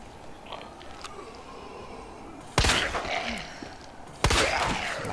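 Two sharp, loud gunshots from Resident Evil 2 Remake ring out a couple of seconds apart, each trailing off in a short echoing decay over a quiet in-game ambience.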